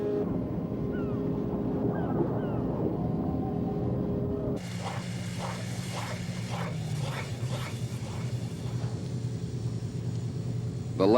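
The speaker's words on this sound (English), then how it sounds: "The pumping continues steadily night and day." Steady pumps empty a stranded tanker's cargo into a lightering tanker, a continuous low mechanical drone with a constant hum, joined midway by a brighter, busier layer of clanking machinery.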